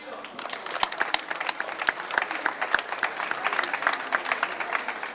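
An audience at a Leipzig book fair stage applauds to welcome social psychologist Harald Welzer, with steady dense clapping from a crowd that holds throughout.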